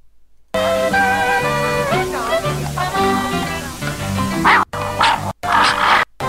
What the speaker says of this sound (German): Jetzt kommt die Szene mit dem Hund, der gleich Stanley angreift.